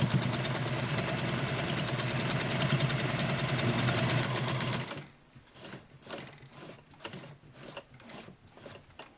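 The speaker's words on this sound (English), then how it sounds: "you're going to sew just under the gathering line. You're going to sew both of those layers together." A sewing machine stitches two layers of a T-shirt together just below a gathering line for a dress. It runs in a steady, loud whir for about five seconds, then stops, leaving quieter handling clatter.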